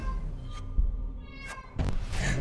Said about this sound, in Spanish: no sé si se estará oyendo el gato